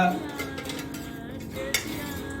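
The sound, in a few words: iron kadai pan being handled and heated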